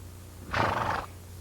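A yearling horse in training gives a single loud, close whinny lasting about half a second, rising abruptly over a low steady background hum.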